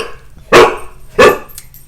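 A pet dog barks twice indoors, two loud, sharp barks about half a second apart, close to the microphone.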